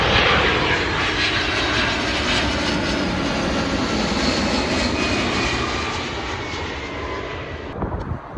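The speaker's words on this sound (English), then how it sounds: "Love them aeroplanes, look at that." DHL aeroplane flying near Heathrow Airport, a loud sustained engine roar that slowly fades as it passes, with a few small knocks at the end.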